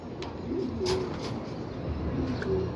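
Racing pigeons returning from a 162 km training flight in Pozzorubio, Pangasinan give soft low coos in short bursts, moderately close, over a steady outdoor background hiss.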